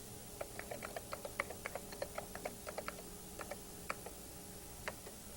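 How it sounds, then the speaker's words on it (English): A name being typed on a computer keyboard: a quick, irregular run of soft, close key clicks with no voices. "type that user's name"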